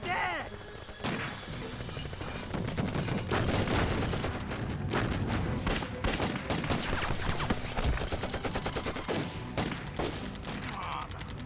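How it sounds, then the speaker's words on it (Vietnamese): Dense gunfire and artillery barrages in a Vietnamese anti-Japanese war action drama, with rapid overlapping shots, booming blasts and machine-gun bursts filling the whole stretch loudly, alongside a few brief shouted voices. "Bắn pháo."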